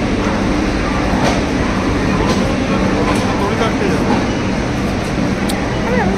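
The Rajdhani Express arrives at Howrah station with a loud, continuous rumble and station din, while voices talk over the noise.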